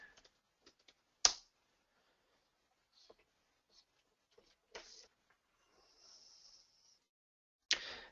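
Sparse keystrokes on a computer keyboard as a place name is entered into a search field, a few isolated clicks and sharper taps spread over several seconds, close and fairly quiet with no talking.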